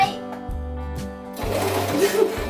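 A sewing machine stitches fabric with a short backstitch at the start, giving brief rhythmic motor bursts that stop and restart, then a longer continuous run, all close by.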